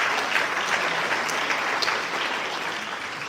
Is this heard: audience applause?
yes